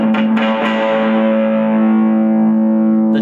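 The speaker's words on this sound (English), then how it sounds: "I'm gonna add some distortion here now because I'm gonna crank this all the way, the gain" A vintage 1960s Maruha electric guitar played through distortion with the gain cranked, a few picked notes ringing into a loud, buzzing sustained chord that holds steady for about three seconds, with no talking.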